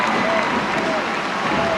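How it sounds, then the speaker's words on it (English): An FEU crowd at a UAAP basketball game cheers and claps in a loud, dense roar, with a commentator talking over it. "the FEU crowd is now cheering"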